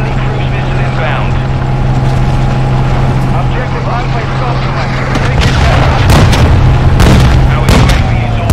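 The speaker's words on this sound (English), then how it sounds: "Friendly cruise missile inbound." Call of Duty: Modern Warfare II Ground War multiplayer on the Santa Sena map, with a loud steady engine drone and heavy booming cruise missile explosions bursting near the end as radio voices call out.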